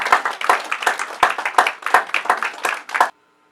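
Congregation in a church gives a round of thankful applause, a short, fairly loud burst of many hands clapping in a pulsing rhythm for about three seconds before stopping abruptly.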